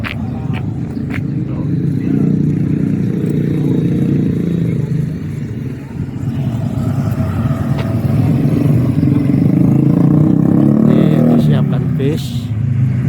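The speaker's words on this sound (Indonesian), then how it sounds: "Ya, ini bis shuttle menuju Plengan." A shuttle bus engine runs steadily at close range, a continuous low rumble with some clatter, while people talk over it throughout.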